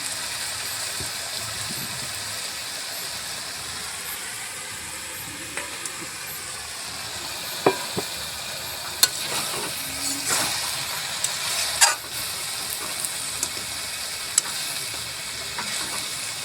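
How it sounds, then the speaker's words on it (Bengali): Fish heads stir-fried in a cabbage curry, a steady hissing sizzle from the pan broken by scattered sharp clicks and scrapes of a spoon, close and even in level. "এখন এখানে মাছের মাথাগুলোকে দিয়ে ভালো করে তরকারিটাকে আবার কষিয়ে নেব।"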